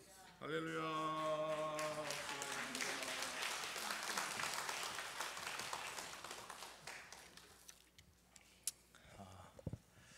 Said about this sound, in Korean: 할렐루야 오른손 들고 박수로 우리 전사님 환영하겠습니다